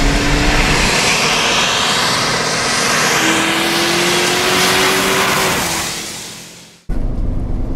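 A loud car engine drones steadily, its pitch rising and falling through rev-matched gear changes, then cuts sharply near the end before resuming.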